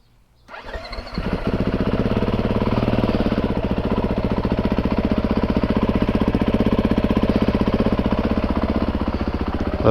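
A 2022 Beta 430 RR-S dirt bike engine fires up after a brief crank and settles into a loud, close, steady rapid-firing idle that continues to the end.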